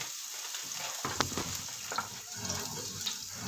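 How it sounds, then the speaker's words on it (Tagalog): Minced garlic and minced yellow onions sizzle in hot cooking oil, a steady close frying hiss with sharper crackles after a quieter start, no talk. "At pag mainit na ang cooking oil, lagyan natin ang ating minced garlic, minced yellow onions."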